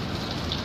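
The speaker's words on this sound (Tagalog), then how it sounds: "kasalukuyang nakasilong dahil umuulan po" Rain pours down while people shelter from it, a dense, loud, even hiss of falling water over a brief moment with no gaps or voices.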